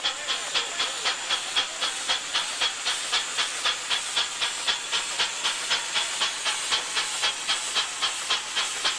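Rhythmic puffing chuffs of an old antique steam engine, about three per second, steady and even with a hissy edge, running continuously with no talking.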